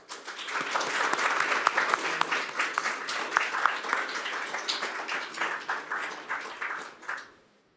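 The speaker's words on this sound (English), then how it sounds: "So please, a round of applause for them." Audience applause rises quickly and holds as a dense, lively patter of many hands clapping, with a few sharper individual claps, before fading out cleanly in the last second.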